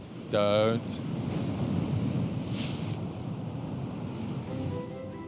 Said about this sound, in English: And a big swell's coming in right now.